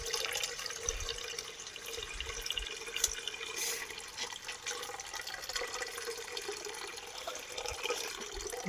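Palm sap being poured into a container alongside palm fruit outdoors, a steady liquid trickle and splash running throughout with faint dripping.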